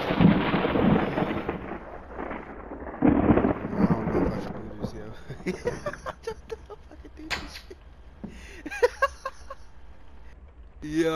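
Thunder rumbles deep and heavy in the horror video game The Nun Massacre, two big rolling crashes followed by softer rain and crackling sounds, with a player talking intermittently.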